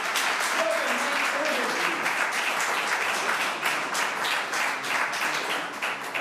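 Steady, dense applause fills a municipal council meeting in a town hall, loud and continuous from start to finish with faint voices beneath.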